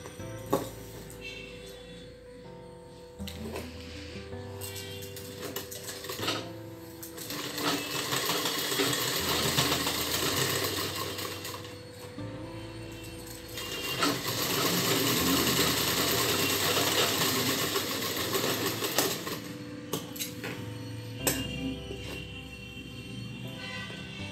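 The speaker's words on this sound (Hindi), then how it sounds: "यहाँ पे सिल लेना है, ये कंधा और ये कंधा, ये दोनों कंधा सिल लेना है।" Sewing machine stitching the shoulder seams of a half-collar kurti, a steady mechanical whirr in long bursts that speed up and slow down, with brief pauses and clicks between runs, close and fairly loud with no talking.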